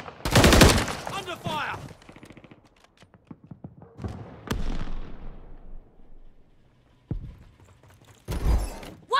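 Gunfire in the video game Call of Duty Modern Warfare III: a loud opening burst, then scattered single shots and impacts that fade into near silence, with short voice lines and another heavy burst near the end.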